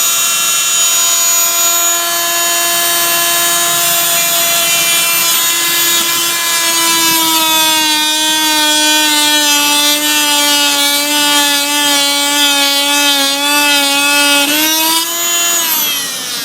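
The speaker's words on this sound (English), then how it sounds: "This just cut through a piece of wood that is 1 3/4 inches thick in less than a couple of seconds." Fein oscillating multi-tool plunge-cutting through wood 1 3/4 inches thick, a loud steady buzzing whine that drops in pitch as the blade bites deeper, then rises again as it breaks through near the end.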